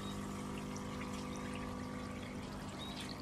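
Water pours and trickles steadily into an aquaponics sump tank, with a low pump hum underneath, a continuous close wash of sound with no talking.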